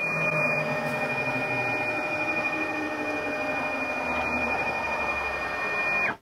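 An AxisCreat 6060 CNC machine drives its axis along in one continuous motor whine with a steady high tone, running about six seconds before stopping abruptly.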